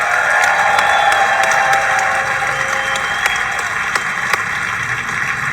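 Audience at a conference session in South Africa applauding loudly and steadily, a dense wash of clapping from a full room that continues throughout without pause.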